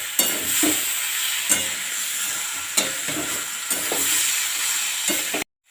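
Fried vegetables sizzle in a pan of spiced yogurt with turmeric and chili powder for a raw banana and poppy seed dish, with a steady frying hiss and regular stirring scrapes about every second.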